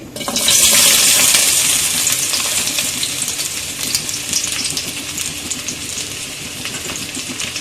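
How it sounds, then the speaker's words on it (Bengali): Chopped onions dropped into hot oil in a pan burst into a loud, bright sizzle that peaks quickly, then settles into a steady, slightly fading frying hiss. "তো আমি এখন এখানে একে একে কুচনো পেঁয়াজ দিয়ে দিচ্ছি।"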